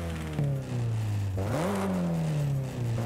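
A car's sport exhaust in Forza Horizon 5 rumbles and rises as the engine revs, dips, then climbs again in a steady drone, with no talking.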